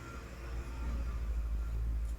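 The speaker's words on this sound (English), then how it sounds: "that's a loud car out there" A loud car passes outside, a deep, steady low rumble that swells slightly and holds for a couple of seconds with no talking over it.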